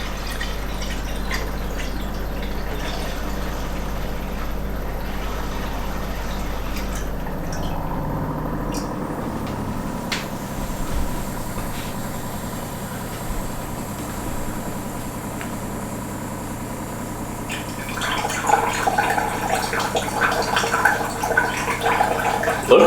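Pond water runs through an ITEHL reverse osmosis purifier, a steady close trickle and drip over a low machine hum, with the flow growing louder and more splashy near the end.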